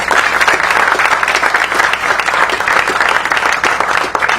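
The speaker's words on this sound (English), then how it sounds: "give yourself a round of applause for supporting us" A roomful of people applauds at a park ribbon cutting and grand opening, loud, dense and continuous clapping throughout with no talk over it.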